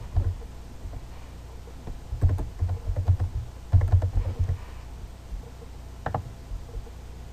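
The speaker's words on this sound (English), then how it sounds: "Just take your text tool and type whatever you want." Typing on a computer keyboard while using a text tool in GIMP, quick bursts of soft close clicks and keystrokes with pauses between, quiet and alone.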